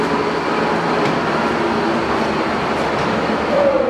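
Jet 16.5 x 60 removable gap metal lathe with a live center in the tailstock, spindle running at 660 RPM, giving a steady, even mechanical hum and whir with no change in pitch, heard alone.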